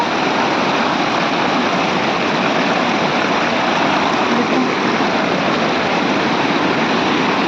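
Small roadside waterfall on Raniguda road in Koraput, a steady, loud, dense rush of falling water that fills the whole stretch without break, with no voices over it.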